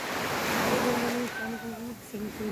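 Sea waves washing steadily on a beach at dawn, a continuous surf roar throughout while a person speaks over it.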